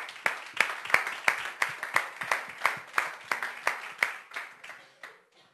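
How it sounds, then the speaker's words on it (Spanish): Small audience at a business marketing session giving a slow, sparse round of applause, a few hands clapping in a loose, steady rhythm that tapers off after about five seconds. "Venga, otro aplauso."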